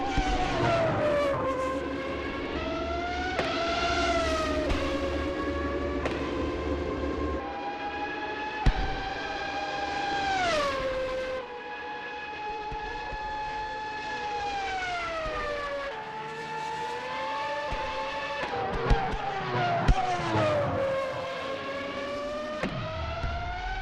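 Formula 1 race cars in a video game at the Vallelunga circuit scream past in high-pitched engine whines that rise and fall through gear changes, layered and continuous with no talking.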